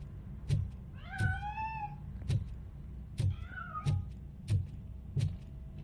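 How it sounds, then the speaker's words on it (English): Cat meowing in the video game Robocop: Rogue City, two clear drawn-out meows among a run of regular dull thumps, fairly close and alone. "That cat must be hiding inside. Let me lure it out."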